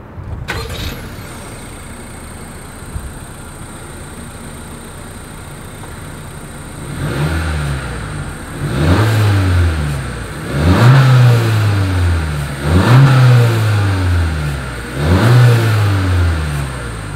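A 2020 Honda CR-V with dual exhaust outlets and chrome tips starts up with a sharp crank, settles into a steady idle, then takes four or five rising revs, each swelling and dropping back, close and loud.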